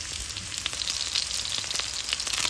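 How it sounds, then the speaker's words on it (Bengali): Garlic, onion and green chilies tipped into oil with sputtering kalonji seeds, a dense, steady close sizzle with rapid crackling pops throughout and no voices. "কালা জিরাগুলো যখন ফুটতে শুরু করছে তখন আমি দিয়ে দিব রসুন, পেঁয়াজ আর কাঁচামরিচ সব একসাথে"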